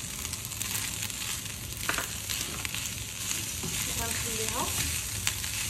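Onions go into a pan where chicken pieces are already browning, giving a steady close sizzle and crackle of frying with light stirring scrapes, and a brief voice is heard over it.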